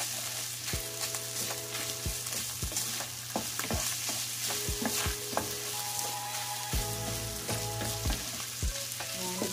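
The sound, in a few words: stirring beef giniling menudo with tomato in a pan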